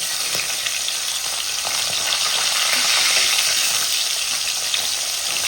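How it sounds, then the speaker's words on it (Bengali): Koi fish, a climbing perch, fries in hot oil in a pan, giving a steady, close, crackling sizzle with small pops that carries on alone throughout. "দেখুন এক পাশ পুরো ভাজা হয়ে গেছে।"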